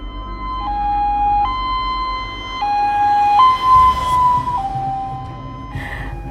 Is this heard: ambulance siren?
yes